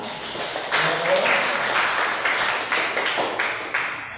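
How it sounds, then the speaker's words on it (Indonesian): A classroom of students applauds at the end of a lesson, a brief burst of mixed clapping that stays fairly loud and even, with a voice faintly under it at the start. "Silakan tepuk tangan semua."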